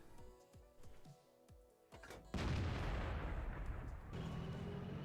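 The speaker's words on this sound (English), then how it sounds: "Take a quick aim shot at this CDC with a heat rounds" A Centurion Action X tank gun fires a HEAT round in World of Tanks: light mechanical clicks, then one sudden loud blast about halfway through that trails into a long, heavy rumbling decay.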